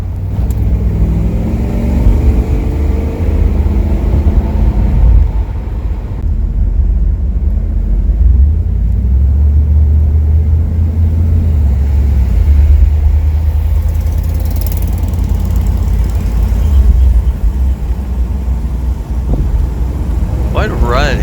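A Chevrolet Camaro IROC-Z cruising on Woodward Avenue during a dream cruise turns around, its engine a steady low rumble throughout with road noise and someone talking over it.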